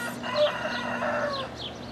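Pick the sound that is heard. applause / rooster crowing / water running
rooster crowing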